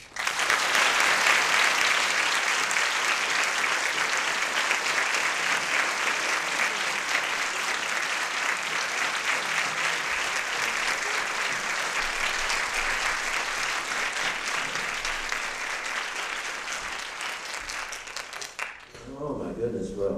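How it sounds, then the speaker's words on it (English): Warm, sustained audience applause at an award lecture event, loud and dense for about nineteen seconds before tapering off abruptly near the end. "please give a warm round of applause to Mr."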